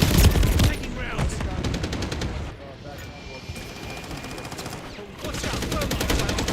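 Sustained automatic gunfire in Modern Warfare 3 rattles in dense bursts that fade back and return, layered with the drone of aircraft or helicopter engines and battle noise.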